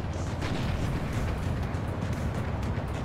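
Continuous low rumbling booms of artillery and explosions in the WARNO strategy game roll on without pause, dense and heavy in the low end, with scattered sharper cracks layered over the steady barrage.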